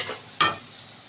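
Pointed gourd and ridge gourd pieces drop into a hot frying pan while a pabda fish curry is cooked, giving one short, fairly loud sizzling burst that quickly fades to a low hiss.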